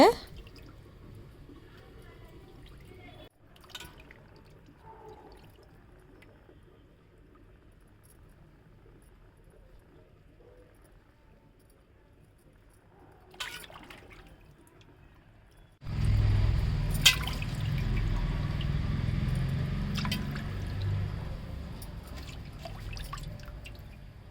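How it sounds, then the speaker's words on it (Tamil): Fish being washed and cleaned by hand in water: quiet drips and small splashes at first, then a louder continuous rush of running water with squishy handling sounds, close by, with a voice talking over parts of it. "மீனில் இருக்கிற சைடில் இருக்கிற டஸ்ட்டு இது எல்லாத்தையுமே வந்து நல்லா க்ளீனாக எடுத்து கழுவிடுங்க"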